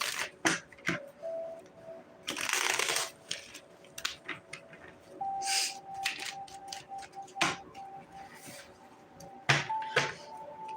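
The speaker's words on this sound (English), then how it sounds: "Let me just give these a quick shuffle." Tarot cards being shuffled by hand for an all-signs reading: repeated soft riffling bursts and quick papery flutters alternate with crisp ticks and taps, close and fairly quiet, with no talking.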